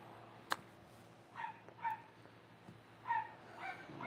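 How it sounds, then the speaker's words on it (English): A dog barking and yipping outdoors in a backyard, several short, fairly faint yelps spaced irregularly at a distance, with one sharp knock near the start. "this dog is going to drive me nuts"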